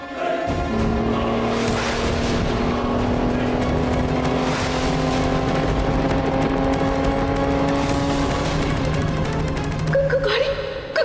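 A car drives on steadily as its brakes fail to stop it, the engine a continuous loud drone that holds throughout, with a sustained musical tone layered over it.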